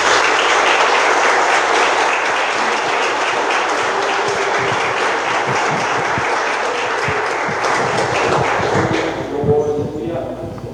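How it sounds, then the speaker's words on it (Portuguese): A church congregation claps in praise at a worship service, dense rhythmic applause with some in-time beats, loud and sustained before thinning out near the end. "As palmas louvem ao Senhor Jesus."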